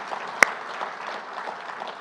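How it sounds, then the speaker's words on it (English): A summit audience applauds, with even, continuous clapping from a crowd in a large room and one sharp close clap standing out near the start. "yeah, let's clap for that."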